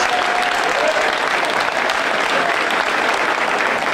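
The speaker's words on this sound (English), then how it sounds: "So let's give them a round of applause." Steady, dense audience applause filling an indoor room at a Kevin Durant Day proclamation presentation, continuous and even throughout with no pauses.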